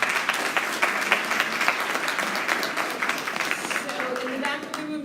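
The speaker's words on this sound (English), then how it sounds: "Give them a round of applause." A room full of people applauds, a dense, steady patter of many hands clapping at once that starts thinning out near the end.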